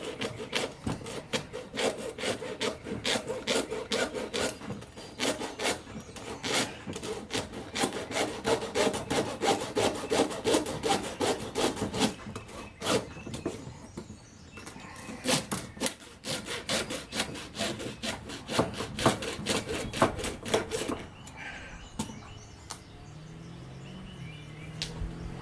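A hacksaw blade cuts through material in a long run of steady back-and-forth rasping strokes, close and moderately loud, with no talking.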